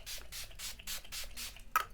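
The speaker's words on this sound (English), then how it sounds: "To set my face, I'm going to go in with the Wet n Wild In Love with Cocoa setting spray." Six quick, close-up spritzes of a Wet n Wild setting spray bottle onto a face, in an even rhythm, each a short hissing burst.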